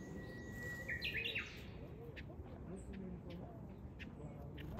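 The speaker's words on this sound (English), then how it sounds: "Something you can only hear when it's quiet is all the birds." Several birds chirp and tweet softly near cherry blossom trees in Kyoto, with short calls scattered over a faint, quiet background and some low murmuring voices.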